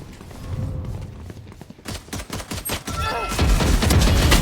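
Rapid gunfire in Valorant, starting with scattered muffled shots, then quicker cracks and a dense, louder volley near the end, close and punchy, with faint background game sounds.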